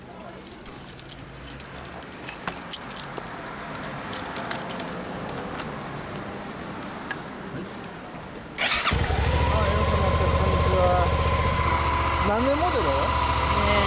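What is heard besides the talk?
Suzuki V-Strom 650 motorcycle engine idling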